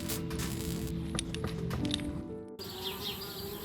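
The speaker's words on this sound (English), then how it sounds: "Darn bees, trying to move into our treehouse." Bees buzz around a treehouse in a point-and-click adventure game, a close, steady droning hum with fluttering wingbeats that shifts in pitch before a short break and a lighter buzzing afterward.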